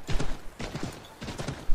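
Horse hooves clip-clop in the Assassin's Creed III video game, several clear rhythmic bursts of steps in quick groups, close and moderately loud with no talk over them.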